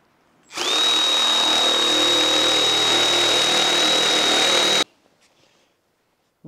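A power tool cutting rusty sheet metal on a car floor starts up suddenly and runs at a loud, steady high-pitched whine for about four seconds, then cuts off into near silence.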